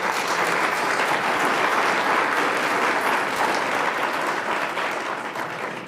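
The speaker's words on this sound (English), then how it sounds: "So a round of applause, please, for Leslie." Steady, dense applause from a luncheon audience at a bar leaders recognition event honoring Leslie, heard alone without talk, sustained at an even loudness and fading slightly at the end.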